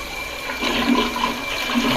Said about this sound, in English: now that the toilet is full, let's give it a flush.